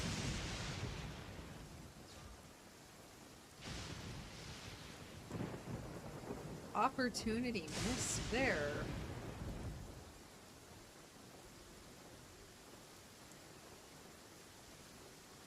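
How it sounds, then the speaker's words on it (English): Pouring rain and rolling thunder in Genshin Impact: a steady, soft hiss of rain with low rumbles swelling midway, and brief talking over it. "Oh, it's pouring."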